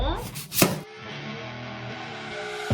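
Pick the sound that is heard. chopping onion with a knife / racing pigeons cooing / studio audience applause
chopping onion with a knife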